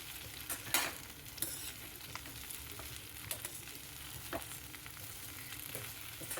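Chopped okra (bhindi) stir-fry being stirred in a pan, with scattered soft scrapes and clicks of the spoon over a quiet, low sizzle.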